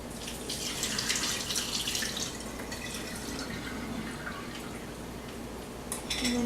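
Soaked quinoa drained in a kitchen, a steady watery trickle and dripping through a strainer near a sink, close and continuous with a clatter near the end.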